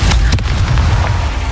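A Confringo fire spell blasts in Hogwarts Legacy, a loud low boom with a sharp crack near the start, then a rumbling tail that fades slowly.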